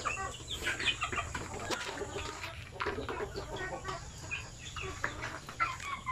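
Native chickens cluck steadily and close by for about six seconds at a weighing and selling spot, a busy overlapping flock chatter with no talking.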